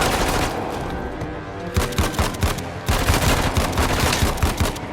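Rapid bursts of gunfire from a scoped AUG rifle in Uncharted: The Lost Legacy, sharp repeated shots in quick rhythm after a brief lull, loud and close over steady game background.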